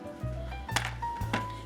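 Homemade shaving soap being broken into pieces by hand, two or three short dull snaps and crumbly cracks spaced about half a second apart, close and fairly quiet over a low steady room hum.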